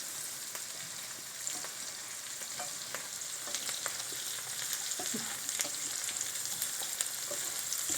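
Live crayfish sautéing in oil and butter in a pan, a steady close sizzle with scattered crackles and pops, continuous and moderately loud with no talk.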